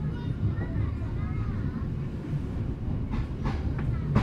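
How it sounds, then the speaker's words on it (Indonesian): Tegal Bahari passenger train running straight through Jatinegara station without stopping, a steady low rumble of rolling wagons throughout, with a few sharper rattles and clanks near the end. "Kereta api Tegal Bahari saat ini melintas langsung di stasiun Jatinegara"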